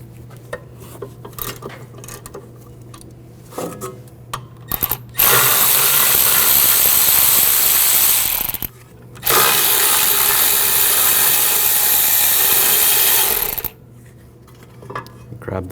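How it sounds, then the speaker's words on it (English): Power tool with a 13mm socket driving out caliper bracket bolts on a 2001-2009 Volvo S60 rear brake, two loud sustained runs of about three and four seconds with a short pause between, quieter clinks of tools before and after. "Now using a 13mm socket, we're going to take these two bolts out for the caliper bracket"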